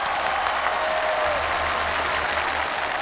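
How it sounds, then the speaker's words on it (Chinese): Studio audience applause on a Chinese TV job-hunting show, a dense continuous wash of clapping from many hands, steady and full for the whole stretch. "我们再次把掌声送给诗雨"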